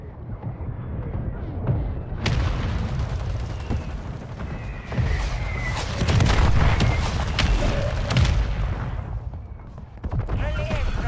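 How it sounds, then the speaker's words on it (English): Friendly mortar strike in a video game, heavy booming explosions landing in succession over a dense battlefield din, loud and close, mixed with gunfire and radio-style voice callouts. "Friendly mortar strike on the way."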